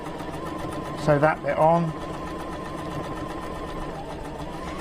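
A sewing machine stitches quilt pieces together, its steady motor hum running throughout with a brief spoken remark partway through.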